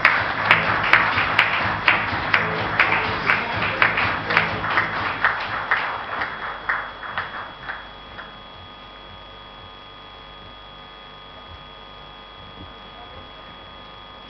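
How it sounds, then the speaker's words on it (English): Audience applause at the Smart Green Awards 2016 ceremony, a burst of rhythmic clapping that is loud for several seconds, then fades out by about eight seconds and leaves a quiet hum. "Let's have a round of applause."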